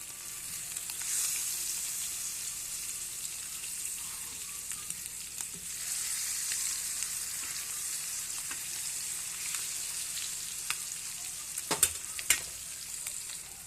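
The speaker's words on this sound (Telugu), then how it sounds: "మన చేప ముక్కలు ఫ్రై కూడా అయిపోయినాయి" Fish pieces frying in hot oil make a steady, moderately quiet sizzle throughout, with a few sharper crackles and pops near the end.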